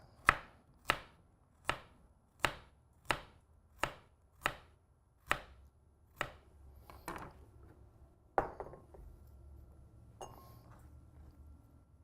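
A knife chops through plain greens on a cutting board in a steady run of about eight sharp, evenly spaced strokes, then a few slower, looser cuts follow. Close and clear, with no talking.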